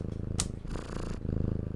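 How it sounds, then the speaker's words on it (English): A house cat purrs loudly and close in a steady rumbling rhythm, with a brief brushing rustle partway through. "Bro, he purrs so loud."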